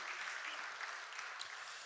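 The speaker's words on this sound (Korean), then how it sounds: "우리 하나님께 영광의 박수를 올려드리겠습니다." Brief, steady applause from a church congregation during a Korean Thanksgiving Sunday service, soft and somewhat distant, a dense wash of clapping.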